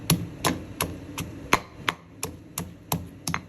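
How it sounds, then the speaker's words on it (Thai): Repeated sharp pounding strikes, about ten in a row at a steady rhythm, a pestle roughly crushing bird's eye chilies in a mortar, with no talk. "เอาพริกขี้หนูลงใส่บุบๆค่ะ"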